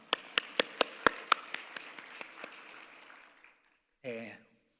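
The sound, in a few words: church congregation clapping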